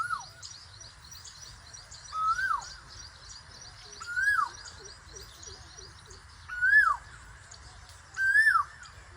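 A koel calls in the morning outdoors, its rising whistled notes repeating four or five times at a steady interval over faint ambient chirps and low background hum.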